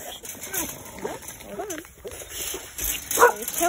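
Pet dogs kept in a pen bark and yip in short, excited bursts close by, mixed with whimpers and heard over a person talking.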